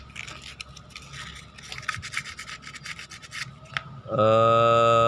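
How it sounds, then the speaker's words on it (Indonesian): Steady rubbing and scraping of sandpaper smoothing a soldered motorcycle ignition switch, a coarse continuous rasp, close up, ending in a sudden loud electric hum. "Ini nanti kita ratain sama amplas."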